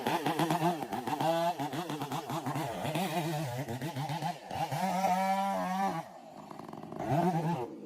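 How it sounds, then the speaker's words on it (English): A chainsaw cuts into a huge forest log while stump-uprooting, its engine snarling loudly and close with rising and falling revs and a brief drop near the end before surging again. "the chainsaw roars, a piercing sound that slices through the silence"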